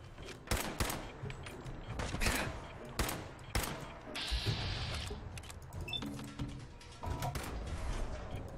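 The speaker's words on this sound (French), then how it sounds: "Il y a une putain de tourelle." Gunfire from a turret in the video game Fallout 4, a rapid series of sharp gunshots and bursts with mechanical clanks and whirs in between, fairly loud and irregular throughout.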